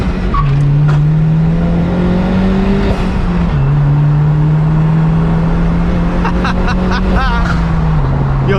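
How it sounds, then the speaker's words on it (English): A manual-swapped Hyundai Genesis driving with its exhaust scraping the ground: a loud, steady engine drone with shifting pitch, harsh scraping and rattling noise over it, and voices talking now and then. "this exhaust is scraping like crazy, dude"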